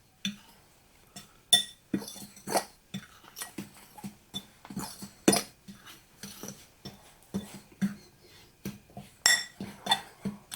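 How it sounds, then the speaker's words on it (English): A spoon clinks and scrapes against a bowl while salted ingredients for cornbread batter are mixed together. Irregular, close, rapid taps and scrapes repeat steadily with no talking. "I'll go ahead and mix this together here in the bowl"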